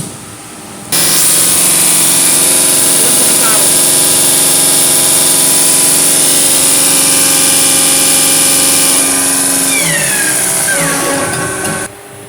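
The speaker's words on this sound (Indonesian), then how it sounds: "sekarang pompa injeksi akan diputar pada 1300 rpm untuk mengetahui tekanan solar di dalam rumah pompa injeksi" An Isuzu NKR 55 diesel injection pump runs on a test bench at about 1300 rpm, a loud, steady mechanical whine and hum that starts abruptly, holds evenly, then cuts off near the end.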